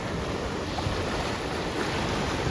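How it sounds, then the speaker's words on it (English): Sea water surging up into a small river at a bay, a steady broadband wash of water with wind rumble, loud and continuous throughout. "Sea water is coming up to this little river here."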